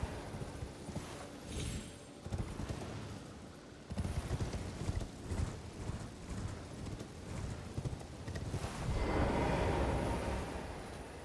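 Horse hooves gallop in the video game Elden Ring, a rapid rhythmic pounding that stays loud and close and swells in a rush near the end.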